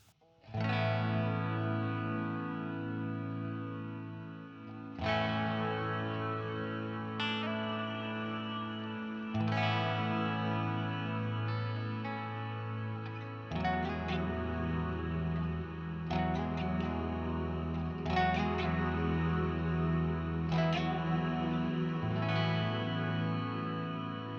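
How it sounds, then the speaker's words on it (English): Electric guitar plays chords and picked notes with a washy reverb tail, heard only in the left channel, letting each strum ring and blur into the next, continuous throughout. "now I'm going to turn on this reverb, and you'll only hear it in the left"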